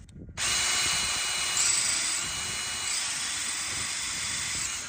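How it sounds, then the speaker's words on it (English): A drill-powered sharpener grinds a saw blade tooth: the drill whines up abruptly and holds a steady high-pitched grinding whir with slight shifts as the tooth is worked, close and alone without speech. "I'm gonna turn the drill on, and then I'm gonna rotate over, and I'm gonna sharpen that just a little bit"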